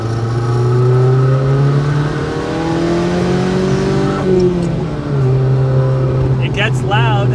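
Cyan Racing's turbocharged Volvo P1800 restomod accelerates hard through the gears of its dogleg box, a loud raspy engine note rising in pitch and dropping at a shift, heard close from onboard.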